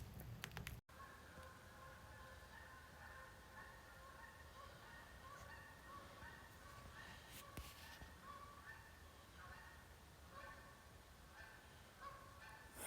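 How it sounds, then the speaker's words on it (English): Geese honking out on a pond in the Adirondack wilderness at evening, faint and distant, with repeated calls drifting over a quiet background hiss. "there's geese out on the pond honking"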